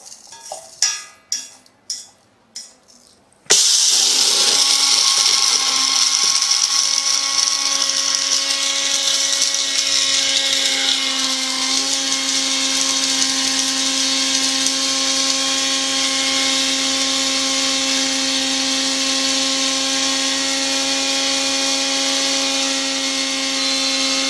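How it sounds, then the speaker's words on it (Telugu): After a few brief tones, a mixer grinder grinding curry leaves and fenugreek seeds to powder starts abruptly and runs steadily with a loud, high, continuous motor whine for about twenty seconds. "మిక్సీలో వేసేసి పౌడర్ కొట్టుకోవాలి."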